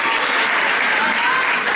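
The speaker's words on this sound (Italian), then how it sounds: "Facciamo un applauso agli organizzatori" A live concert audience in Palermo applauds the organizers with loud, dense, continuous clapping lasting about two seconds.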